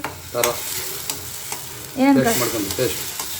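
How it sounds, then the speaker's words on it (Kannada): Food sizzles steadily in a hot pan while a utensil scrapes and stirs in short strokes, with brief voice-like sounds midway; the frying mix includes onion, garlic, ginger and mint. "ಆಮೇಲೆ ಮಿಕ್ಸ್ ಮಾಡಿ. ವೆಯ್ಟ್ ಫ್ರೈ ಆಗಲಿ."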